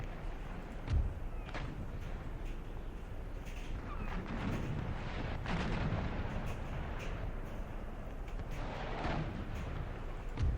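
Ship cannons firing during a naval battle in Empire: Total War, several dull booms scattered among a constant rumble of distant battle noise, with no speech heard.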